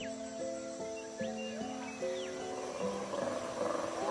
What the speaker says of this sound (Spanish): Al amanecer se escucha el rugido de los colobos machos.